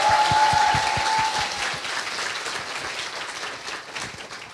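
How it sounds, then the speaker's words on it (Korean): Studio audience applause at a Korean talk show lecture, a dense burst of clapping that starts loud and slowly thins over several seconds, with a brief tone near the start and no speech. "박수 부탁드립니다."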